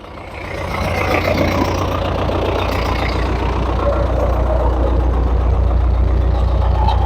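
A heavy diesel MTZ tractor engine idles and runs steadily with a deep, constant rumble, loud and close, rising slightly at the start and holding even throughout.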